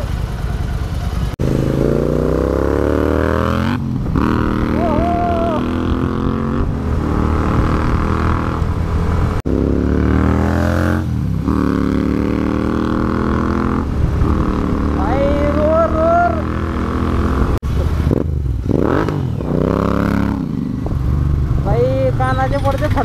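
A Royal Enfield GT650 motorcycle fitted with Red Rooster exhausts runs with a deep, loud engine rumble that continues throughout, while people talk close by over it.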